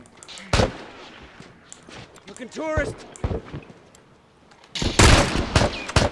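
Sharp gunshots in The Last of Us video game crack out in short bursts, a few isolated, others clustered, with a voice talking between them.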